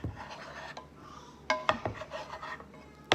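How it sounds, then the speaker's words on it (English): Spatula scraping eggs in a pan, a few short, sharp rasps and scrapes of the utensil against the pan surface, close and fairly quiet, with no voices. "you're just going to want to scrape"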